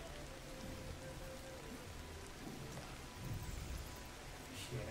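Steady rain falling in the video game Ancestors: The Humankind Odyssey, a dense continuous hiss of drops on surfaces, moderately quiet with faint low rumbles.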